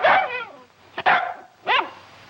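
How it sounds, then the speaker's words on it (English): A dog barks sharply three times, loud and close. The barks come in uneven bursts with short gaps, and there is no speech. "His bark is much worse than his bite."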